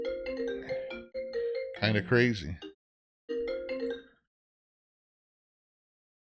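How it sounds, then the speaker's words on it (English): An incoming call's phone ringtone plays a steady melodic tune in two short bursts, with a person speaking briefly between them before the sound cuts to silence. "Sorry, I got a phone call."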